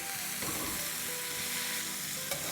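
Thin potato fries for Schezwan fries crackle over high flame in an even, continuous sizzle, with one soft clink near the end and no speech.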